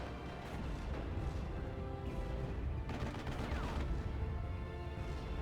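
Artillery barrage from the Warfare Barrage in Company of Heroes: a continuous rumble of explosions and gunfire, dense and steady with heavier booms near the middle, no talk over it.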